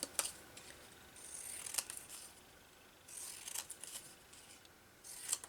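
Scissors snip and trim paper for a collage in a few quiet, separated bursts of short crisp cuts with pauses between them.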